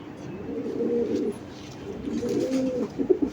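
A female racing pigeon coos in two soft, rolling phrases close by, each a low throaty burble, with a brief sharper note at the end.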